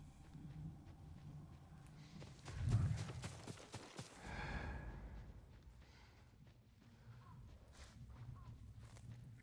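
Horse hooves clip-clop on the ground in the video game Ghost of Tsushima, a brief cluster of hoofbeats rising over low game ambience, with a louder patch near the middle.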